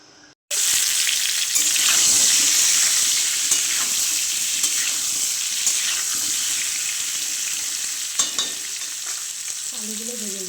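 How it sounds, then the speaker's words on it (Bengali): Cut potatoes sizzle in hot oil in a home kitchen, a loud steady crackling hiss that starts abruptly and runs on with occasional stirring clatter, alone without talk. "আলুগুলো ভেজে নিচ্ছি"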